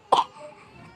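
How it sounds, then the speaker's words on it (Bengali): A small child gives one short, sharp cough, heard up close indoors, followed by a quiet room. "কাশি হয়েছে আমার বাবার?"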